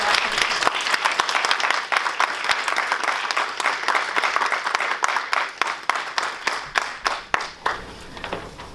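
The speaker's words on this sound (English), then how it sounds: "Please let's applaud their efforts today." An audience at an oratorical contest applauds the youth speakers, full clapping that gradually thins into distinct individual claps before tapering off near the end.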